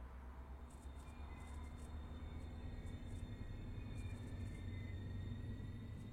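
Steady low rumble of a double-deck gallery car rolling along the Peninsula Corridor through the San Francisco Bay Area in a train simulator game, a continuous quiet drone with faint rail clatter and no voices.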